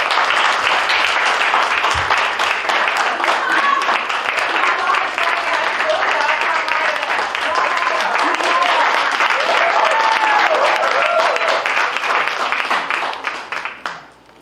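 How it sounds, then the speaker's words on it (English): A graduation crowd for the Class of 2022 at the Guyana School of Real Estate gives a long, loud round of applause, dense clapping sustained for about fourteen seconds before fading out at the end. "can we just start by giving them a round of applause?"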